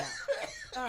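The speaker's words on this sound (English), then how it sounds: "Now the cough is back." A single cough bursts out near the microphone, short and breathy, with a second throaty huff trailing off at the end and no talk over it.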